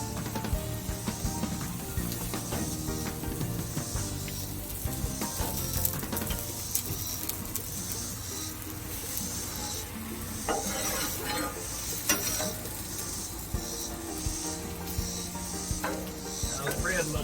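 Onions fry in oil with a crackling sizzle close by, broken up by frequent clatter and scraping of a utensil against the pan throughout.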